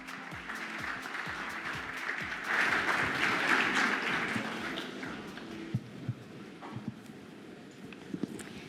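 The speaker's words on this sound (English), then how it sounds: "please give them a round of applause" Conference audience applauding panelists at a Consensus 2017 blockchain session, a broad steady wash of clapping that swells midway and then thins toward scattered claps near the end.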